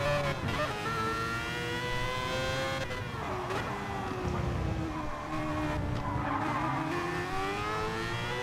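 Race cars in a racing video game scream through the Arnage corner and onto the run toward the Porsche curves, engines whining loud and steady with shifting pitch and brief tire squeal, no voices.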